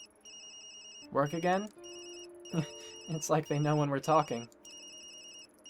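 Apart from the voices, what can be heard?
mobile phone ringtone in the video game Tokyo Dark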